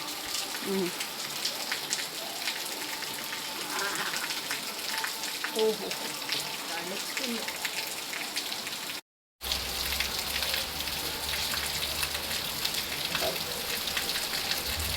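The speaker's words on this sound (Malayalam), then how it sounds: "ഈ മഴ എന്തൊരു മഴയൊക്കെ മഴ" Steady heavy rain hisses and patters continuously, with a voice speaking faintly underneath and a brief dropout midway.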